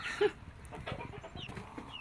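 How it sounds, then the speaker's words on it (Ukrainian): A large rooster and chickens cluck nearby in short, scattered bursts, with a brief louder call near the start and soft rustling between. "Ну це той здоровецький півень."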